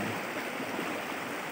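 Steady, loud rush of river water flowing down a steep drop in the upper reach of a river, a continuous broadband roar with no voices over it.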